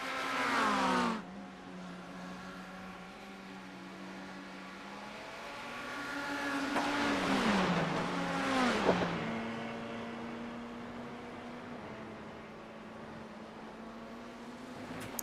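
Race cars at Le Mans in a sim racing event cross the line, with engines whining in rising and falling pitch as they pass, several sweeping by in quick succession around the middle over a steady distant engine tone.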